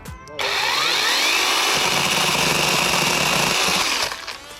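A battery-powered power tool cuts through a thin piece of wood while building a footbridge in a city, revving up sharply and whining steadily for about four seconds before winding down.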